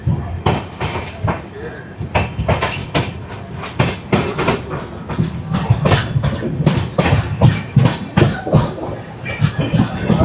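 The Kumbh Express runs on rails between Howrah and Haridwar, a loud close rhythmic clickety-clack of wheels over rail joints with a rushing, rattling carriage rumble underneath.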